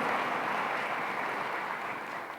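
A church congregation gives lively sustained applause, a dense steady wash of many hands clapping that eases off slightly toward the end.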